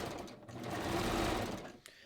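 A serger sewing machine stitching a hem on a top, a brief close burst of fast whirring stitches that swells and then stops with a small click.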